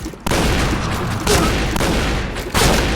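Loud gunfire in the online shooter Point Blank, with several sharp bursts cutting into a steady roar of continuous shooting.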